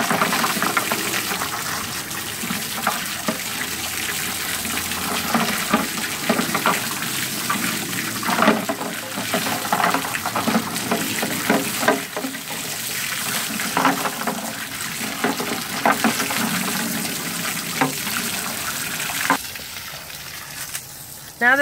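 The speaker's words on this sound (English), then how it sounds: "So we're just going to rinse everything very well." Water gushes and splashes continuously while a quarantine tank is rinsed out, a steady close hiss of running water with shifting splashes that eases off near the end.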